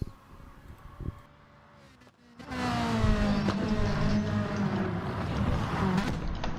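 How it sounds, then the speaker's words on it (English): A race car engine starts quiet and distant, then swells into a loud, sustained high-revving drone that holds steady at close range with slight pitch shifts. "time for some engine and driver noise."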